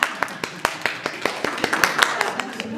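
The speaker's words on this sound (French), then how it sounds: "On mérite des applaudissements, ça." At an association meeting in Geneva, hands clap in a crisp, fairly regular rhythm, several sharp claps a second, close and continuous.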